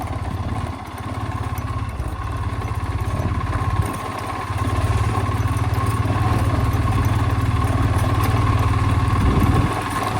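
A Hero Splendor motorcycle engine idles steadily and close by on a monsoon ride, its low rhythmic putter continuous with a brief dip near the start, no voices present.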